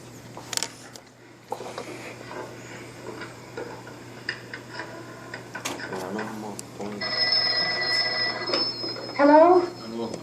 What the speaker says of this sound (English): He's about to call her on the phone.